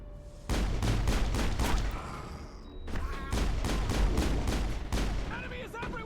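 Gunfire rattles in the video game Mass Effect, with rapid bursts of repeated shots during a firefight, loud and close.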